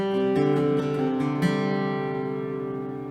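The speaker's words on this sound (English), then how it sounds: "we don't do any string stopping with that, we're going to get kind of messy in there" Several acoustic guitar strings strummed and left ringing together unstopped, a few quick picked accents, then the chord sustains and slowly fades.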